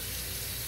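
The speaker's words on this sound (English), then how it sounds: "You're just gonna keep on rinsing that until your water runs clear." Tap water runs steadily over a bathroom vanity top as it is rinsed, a soft, even broadband wash filling the brief moment with no voices.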